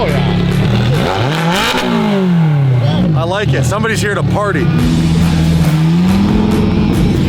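A 1000+ horsepower twin-turbo V8 Aston Martin Valhalla with a gated manual shifter revs loudly and steadily, its pitch rising and falling through several sweeps while people talk over it.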